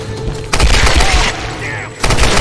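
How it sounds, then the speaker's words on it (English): Machine gun fire in a Tomb Raider video game: dense, loud bursts of rapid shots with thuds, cutting out briefly and resuming, mixed with voices talking over it. "She has a machine gun!"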